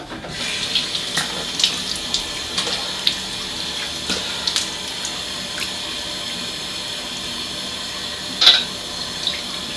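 A straight razor is rinsed under a running tap, a steady close stream of water with a few brief splashes and clinks, and no talking.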